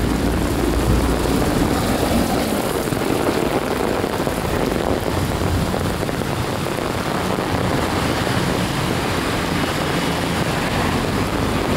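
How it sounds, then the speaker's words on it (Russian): A heavy rain downpour during a spring thunderstorm, with a dense, steady hiss of rain hammering surfaces close by that keeps up without a break and is loud and constant throughout. "Нифига, какой ливень"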